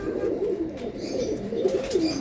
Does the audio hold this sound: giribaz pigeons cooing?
yes